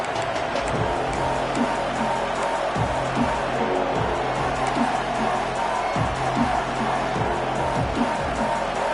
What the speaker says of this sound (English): this crowd wants it